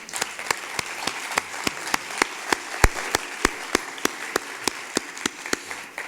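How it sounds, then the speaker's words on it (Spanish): An audience at a panel on tourism management of protected areas in Chile gives applause for the speakers, heard as sparse, evenly spaced sharp claps, fairly close and regular, like a single person or a few clapping. "Un aplauso para los expositores"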